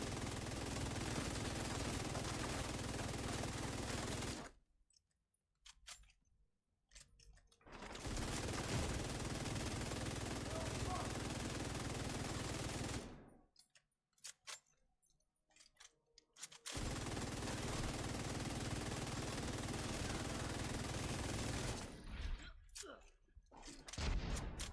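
Rapid automatic gunfire in The Division 2, loud, dense bursts of several seconds each, broken by short quieter gaps, with heavy battlefield shooting at a mini tank.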